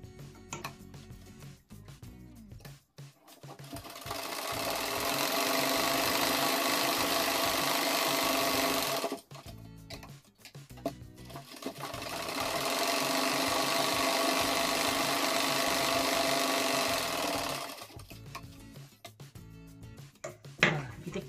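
A sewing machine stitches a cloth baby diaper in two long continuous bursts of whirring, each several seconds long, separated by quieter pauses with small clicks and handling noises.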